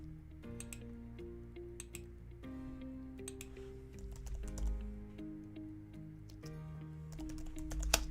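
Computer keyboard typing during a live hacking practice session, quick irregular key clicks in short bursts, close and quiet over a steady background hum and music-like tones, no talking.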